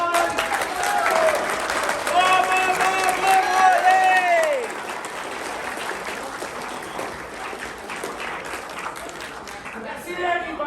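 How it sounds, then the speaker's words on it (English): An audience at a comedy-style show applauds and cheers, loud clapping with whoops while someone talks over it, the noise easing to lighter applause before he keeps talking. "Round of applause, let's go everyone."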